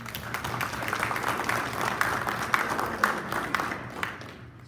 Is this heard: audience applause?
yes